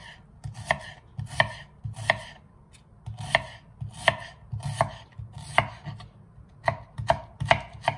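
A knife chops onions steadily on a wooden board in quick bursts of sharp strokes, with short pauses between runs, close up and fairly loud.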